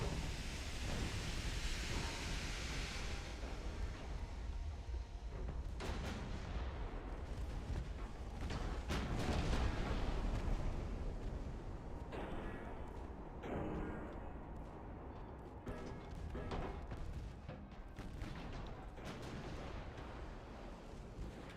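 Naval guns firing in Ultimate Admiral: Dreadnoughts, a French fleet engaging Austria-Hungary: a steady roar of sea and battle noise broken by repeated heavy booms and sharp reports, near and loud, with no talk.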